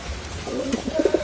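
A Chinese teddy pigeon from a breeding pair coos softly in a few short, low throaty bursts, which grow closer together toward the end over a quiet background.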